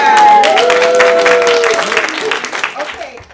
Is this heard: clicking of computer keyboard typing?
no